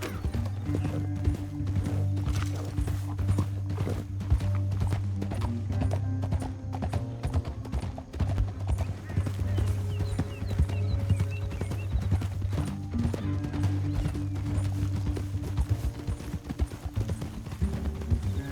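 Horse hooves galloping in Red Dead Redemption 2, a steady, rapid clip-clop pounding throughout with rumbling low tones and a musical score underneath, plus a brief whinny.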